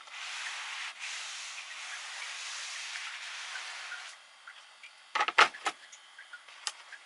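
A Steamfast cordless steam iron hisses steadily as it steams doubled fabric for about four seconds, then falls silent, followed by a few brief clicks and rustles of the iron being handled.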